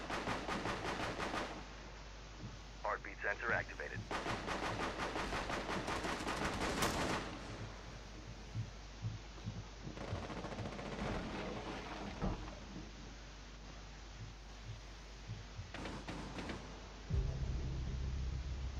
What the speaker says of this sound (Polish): Do niego strzelają.